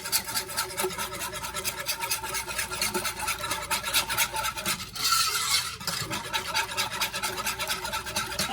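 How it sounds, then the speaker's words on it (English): Spoon scraping and stirring garlic powder into Alfredo sauce in a pan, a close, rhythmic rasping swish repeated steadily, with a brief louder scrape partway through; no one speaks. "And I'm going to give this a nice mix around."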